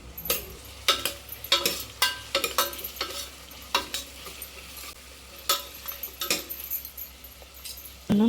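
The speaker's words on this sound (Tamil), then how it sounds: "புதினா கொத்தமல்லி ஒரு கை சேர்த்து நல்லா வெங்காயத்தோடையே நல்லா வதங்க விடணும்" Sliced onions with a handful of mint and coriander sautéing in a pan for pulao, with repeated scraping and clinking stirs over a soft sizzle, close and fairly quiet.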